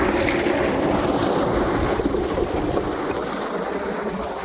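Heavy water gushing from a borewell outlet driven by a 5 HP solar pump, run by fourteen 550-watt panels, in a steady loud broadband rush without pause, wind buffeting the microphone.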